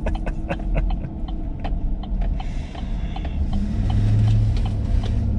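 A truck rumbles along while driving, a loud low engine drone with road noise and scattered clicks and rattles from the cab, steady throughout and without talk.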